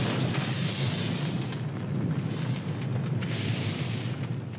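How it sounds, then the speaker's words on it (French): A sustained roaring blast of superheated fluid igniting, loud and continuous with broad rumbling and hissing noise throughout, no voices. "Mais quelle est l'origine d'une telle explosion?"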